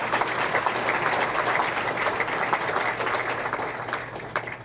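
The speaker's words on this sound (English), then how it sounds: "please give them a big round of applause" A big round of applause from the crowd at a Veterans Day luncheon, dense continuous clapping from many people filling the room at steady volume, with a few sharper claps near the end.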